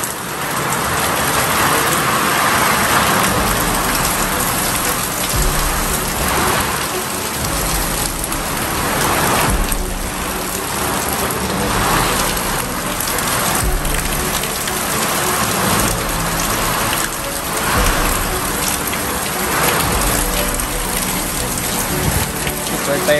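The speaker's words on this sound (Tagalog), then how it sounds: "Typhoon yata ito." Heavy typhoon rain pours down steadily and loudly, a dense, unbroken hiss of drops striking surfaces that lasts the whole stretch with no letup.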